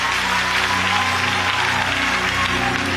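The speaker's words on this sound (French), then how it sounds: "Bah, Jésus, un applaudissement moi." A church congregation claps in a continuous, loud wash, with a sustained musical tone humming underneath and no pauses.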